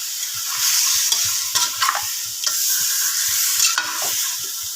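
Chicken for pork and chicken humba fries in a pan with a loud, close sizzle, punctuated by repeated scraping and stirring strokes at an uneven rhythm.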